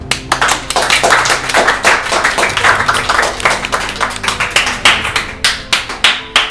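An audience claps steadily for a correct answer, a fairly close, dense patter of hands that continues throughout with a slightly uneven rhythm.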